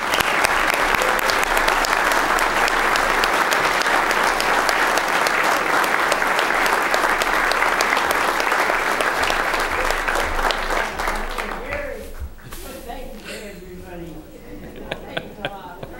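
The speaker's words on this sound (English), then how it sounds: "Come on, one more round of applause for Anna." Audience applause at a village board meeting, loud sustained clapping from a crowded room that fades after about eleven seconds into scattered claps and murmuring voices.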